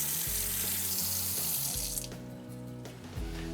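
Running sink tap pours steadily while hands are washed beneath it, a loud close rush of water with a brief change in the flow partway through, no voices.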